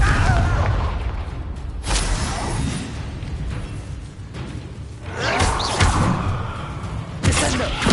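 A Confringo fire spell in the video game Hogwarts Legacy, heard as several booming explosive bursts with whooshes, several seconds apart over a continuous game soundscape.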